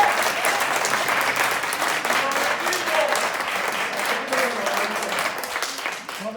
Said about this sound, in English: If you believe everyone deserves due process, then you shouldn't be clapping for this